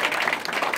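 A church congregation claps and cheers in praise, a brief loud burst of dense applause from a crowd close by.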